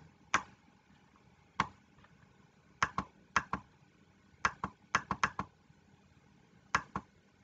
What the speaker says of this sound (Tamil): உங்களுடைய பின்கோட் கரெக்டாக டைப் பண்ணணும்.